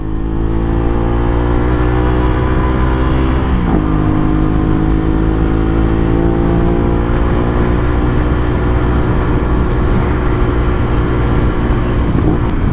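A 2021 Aprilia RS 660 sport motorcycle, an Italian bike, accelerates with a loud, steady engine drone whose pitch climbs, drops briefly at a gear change, then rises again, heard close up with no talking.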